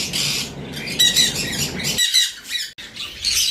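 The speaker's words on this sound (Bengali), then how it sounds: "এই যে বদ্রি পাখিরা দেখো রিং নিয়ে খেলছে পাখিরা" Budgerigars squawk and chatter in loud, dense bursts close by, several birds calling over one another with a brief pause near the end, no talking.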